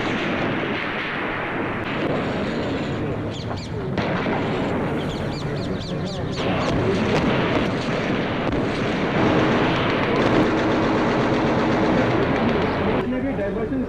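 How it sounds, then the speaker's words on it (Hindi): Sustained gunfire during the 1984 Operation Blue Star assault on the Golden Temple, a dense continuous roar of shots and rumbling blasts filling the whole stretch, loud and close throughout. "पर रिस्पॉन्स में फायरिंग शुरू हो गई।"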